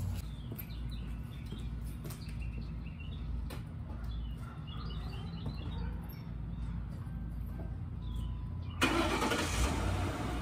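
A 4.8 V8 car engine cranks and fires, its low rumble steady for several seconds before a sudden louder burst near the end, with no talking.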